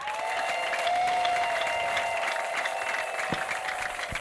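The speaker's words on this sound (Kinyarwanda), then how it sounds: "amashyi n'impundu" An ADEPR church congregation applauds, a steady patter of clapping mixed with sustained high tones that may be ululation, fairly distant and even, with a couple of sharp knocks near the end.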